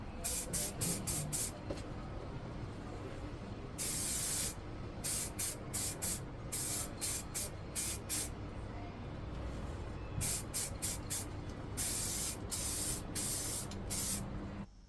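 Aerosol primer sprayed onto Tamiya 1/14 Grand Hauler model truck parts in light coats, a string of short hissing bursts, then several longer steady sprays and another run of quick bursts, close and fairly loud with no talking.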